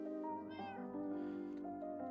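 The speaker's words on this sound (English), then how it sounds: "I don't know how many cats are in here." Several Minecraft cats meow in overlapping, tonal cries, close and steady over a constant background hum, from a pen holding many cats in the blocky survival game.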